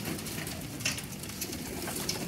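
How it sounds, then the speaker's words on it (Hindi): Blue-tailed (Neelay) flying pigeons cooing in a loft, a steady low murmur of coos with occasional brighter chirps, moderately faint and without talk. "अब ये देखें नील दुम्बा कबूतर है"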